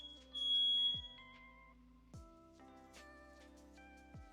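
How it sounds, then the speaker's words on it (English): Several fire alarms sounding inside a house, a steady high electronic tone with repeated beeping pulses and short falling sweeps, fairly quiet and heard alone. "all the fire alarms are going off in my house."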